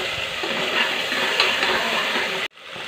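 Bottle gourd and tomato are sautéed and stirred in a hot pan, giving a close, steady sizzle with scraping stir strokes that cuts off abruptly near the end before a quieter hiss resumes.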